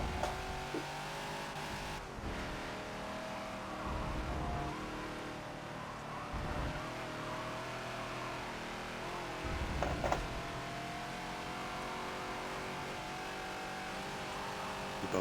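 Ford Falcon XB racing around Sonoma in a Forza video game, its engine droning steadily with shifting revs and brief swells as it brakes and accelerates through corners, continuous and fairly close throughout.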